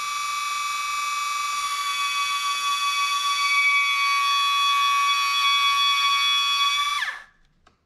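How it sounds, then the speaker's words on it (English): ABS brake pump on a BMW motorcycle (R850/R1100/R1150/R1200/K1200 era) whining steadily during a brake bleed, a continuous high electric hum for about seven seconds before winding down and stopping. "squeeze the brake, you'll hear the ABS pump start working"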